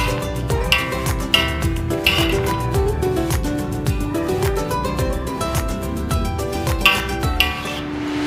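A utensil stirs spinach, eggs and corn boiling in a pot of water, giving rapid, repeated metallic clinks and scrapes against the pot over a bubbling liquid background, close and fairly loud, with no talking.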